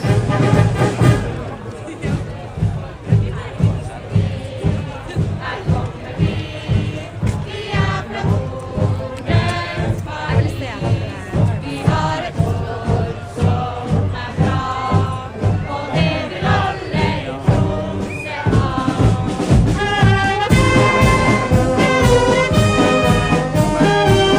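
Large crowd at a Norwegian Constitution Day school parade in Tromsø, with loud, rhythmic chanting and cheering repeating steadily, over a dense hubbub of voices.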